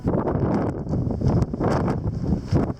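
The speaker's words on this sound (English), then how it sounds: "That flying camera strap should give you some idea about the windy and cold conditions up there." Strong, cold wind buffets a microphone atop the Clingmans Dome mountain observation tower, giving a continuous loud rumbling roar with gusty surges and flapping.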